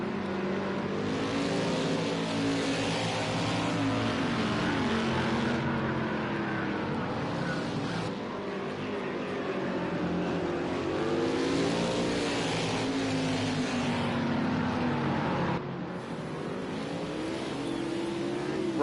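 Race cars lapping Sonoma Raceway in an online racing league event, engines droning and revving continuously with gear-shift dips and rising pitch sweeps as cars pass, loud and sustained throughout.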